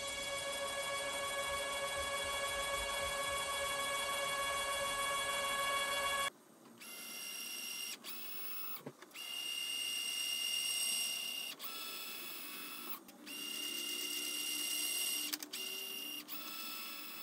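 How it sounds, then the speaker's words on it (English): A tapping arm drives taps into threaded holes in steel frame plates for a DIY fiber laser cutter. A steady high mechanical whine runs first, then gives way to a softer motor hum broken by short clicks and brief pauses. "Let's try out this new tapping arm."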